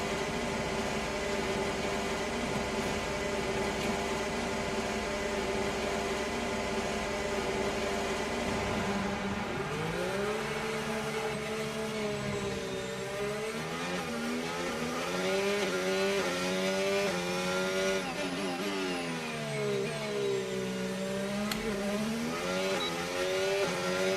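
Formula 1 car lapping Baku in the F1 25 video game, a continuous high engine whine rising and falling through gear changes and corners, sustained and close with no talk.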